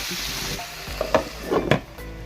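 Ivy gourd sautéing in an oiled pan, a low steady sizzle broken by a few close scraping and clattering stirs, no voices.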